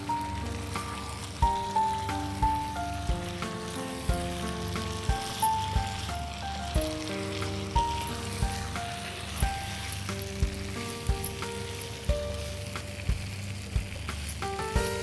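Spaghetti pasta sizzles and fries in a pan over high heat, a steady crackling hiss beneath background music with a regular beat, no talk.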